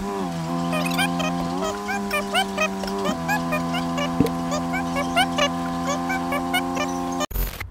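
A car engine idles steadily with a stable low hum during a DIY transmission oil change on an inexpensive convertible. A brief pitch shift occurs midway, and people talk quietly underneath before a sharp clunk at the end.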